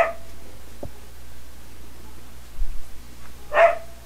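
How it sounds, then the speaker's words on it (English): A dog gives a couple of short, separated barks or yips, one brief and faint early on and a louder one near the end, against a quiet indoor background. "Here's the dog again."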